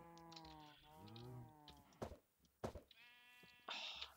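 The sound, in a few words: sheep bleating in the video game Minecraft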